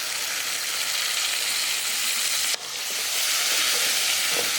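Onions and green chillies sizzle steadily in a hot pan over a medium flame, a constant bright hiss with a brief stir-like interruption partway through.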